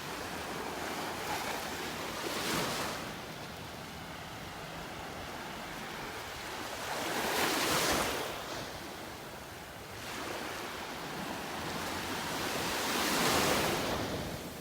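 Surf rolls onto a North Naples, Florida beach on a calm early morning, with soft wind noise and three swelling wave washes spaced several seconds apart at moderate distance.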